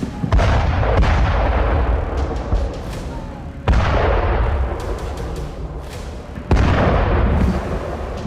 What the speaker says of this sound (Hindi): रात के अंधेरे में इजराइल के खान यूनिस इलाके में इतने बम बरसाए जिससे कई घंटों तक पूरा इलाका थर्राता रहा।